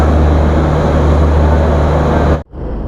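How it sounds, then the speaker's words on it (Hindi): Agartala–Bangalore MSVT train on a scenic northeastern India route, a loud steady rumble with low droning tones, cutting off abruptly near the end before a quieter hum resumes. "अगरतला MSVT बेंगलोर के लिए रवाना हो रही है।"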